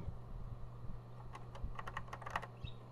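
Keys clack on a Sanyo MBC 555 computer keyboard, a quick cluster of crisp taps in the second half over a low steady hum, nearby with no speech.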